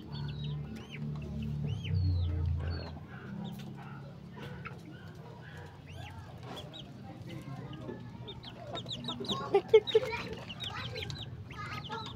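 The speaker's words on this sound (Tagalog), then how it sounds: "At ito yung manok." Chickens cluck and a rooster sounds off on a backyard farm where pigeons and ducks are also kept, with scattered calls over low rumbling noise. The clucks grow busier near the end.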